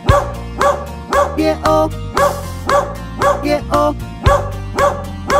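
Cartoon-style dog barks punctuate a cheerful Polish children's song about a farmer's dog, with regular woofs over a bouncy band backing and singing voices.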